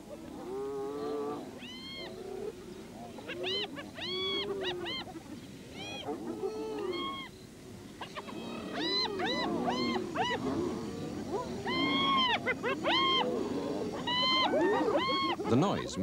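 A pack of hyenas squabbling over a kill in the wild, with overlapping whoops, rising giggles and growls coming in repeated clamorous bursts that build louder toward the end.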